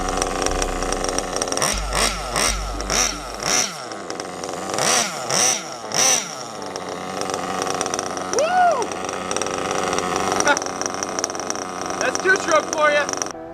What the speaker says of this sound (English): Listen to that idle though! We're idling at about, I don't know,